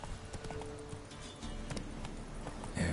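Roach, a horse in The Witcher 3, gallops with quick rhythmic hoofbeats clip-clopping across the ground at a steady pace, moderately close.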